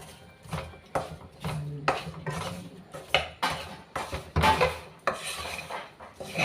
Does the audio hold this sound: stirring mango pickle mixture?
yes